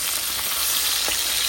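Pangas fish sizzles loudly in hot oil in a pan as it is flipped over, a steady dense crackle with a few soft bumps from the turning.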